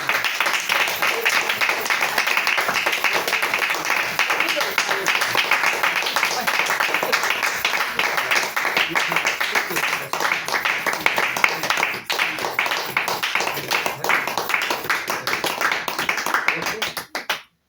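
A church congregation claps loudly and continuously for God, a dense, steady wall of hand claps filling the room for the whole stretch before cutting off abruptly.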